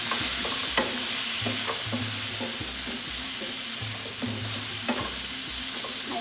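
Whole walnuts go into a pot of quince and pomegranate stew, with a soft sizzle and repeated scraping, clinking stirring sounds close by and no voices.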